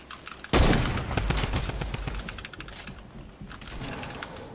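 Gunfire in a video game, a sharp loud burst followed by rapid clattering shots that fade over a few seconds, with no talking.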